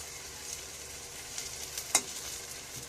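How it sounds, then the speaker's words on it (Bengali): Gandal leaf fritters frying in oil hiss and sizzle steadily, close by, with a single sharper crackle partway through and no voices. "গাঁদাল পাতার চপটা ভাজা চলছে।"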